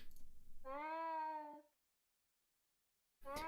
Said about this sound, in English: Dying cat sounds, oh no.